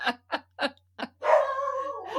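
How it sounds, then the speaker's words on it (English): A pet dog indoors at home gives four short, sharp barks in quick succession, then a longer whining, howl-like cry, loud and close, with no talk over it. "Now she's barking."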